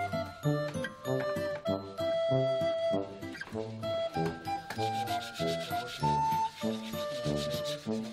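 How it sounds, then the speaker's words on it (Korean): Several craftsmen hand-sand carved wood in a Bhutanese workshop, giving steady rhythmic rubbing strokes that repeat in short bursts, close and fairly loud, with faint tinkling and clinking mixed in. "모양이 완성되면 나머지 장인들이 단계별로 사포질을 합니다"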